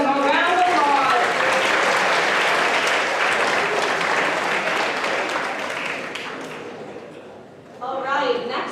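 An audience at a school spoken word finals gives a performer a sustained round of applause and cheering that fades slightly before a voice speaks at the end.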